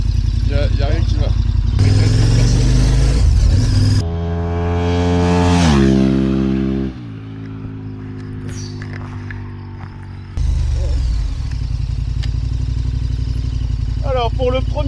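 KTM 1190 Adventure motorcycle carrying two riders, its engine running loud and close with a rising then falling revving sweep mid-clip before settling to a steadier drone, wind noise throughout.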